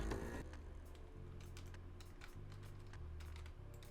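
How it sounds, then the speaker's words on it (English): Rapid typing on a computer keyboard at a PC game of repairing tanks, quick irregular key clicks in short bursts, close and fairly quiet, over a low background hum with no talking. "oh, I can type commands"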